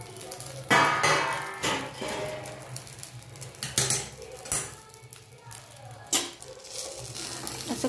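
A steel plate set upside down as a makeshift lid is lifted off a hot griddle where rice ghavan is cooking, with sharp metallic clanks and scrapes over a soft sizzle, several knocks spread through the moment.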